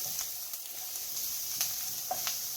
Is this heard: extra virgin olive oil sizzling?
yes